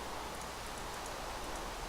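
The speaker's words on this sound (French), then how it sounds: "Putain, il pleut là, c'est chiant" Steady rain falls in the Minecraft video game, an even hiss of soft patter with faint ticking, continuous and fairly quiet with no voices.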